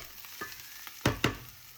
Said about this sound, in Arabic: ومن بعد زدت زوج فصوص نتاع الثوم يكونوا كبار مقطعين وقليتهم